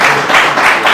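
Audience clapping at an award ceremony for an illuminated-houses contest in a ceremony hall, a short burst of steady, close applause from a small crowd.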